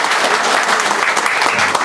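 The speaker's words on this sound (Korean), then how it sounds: "우리 토론자님들 박수 한번 부탁드립니다." Audience at a policy debate on promoting regional sports applauds the panelists, a dense, steady burst of clapping filling the room without pause.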